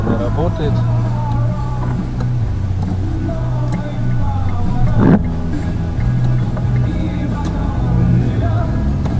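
Cars pass outside a moving Chery Tiggo, heard from inside the cabin as a low road rumble with a brief whoosh about halfway through, under steady talk.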